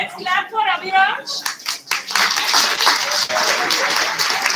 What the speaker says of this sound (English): let's clap for Abhiraj.